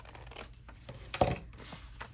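Scissors snip a small angled cut into the corner of paper for a craft pocket, one short crisp cut with light rustling before and after, close and quiet.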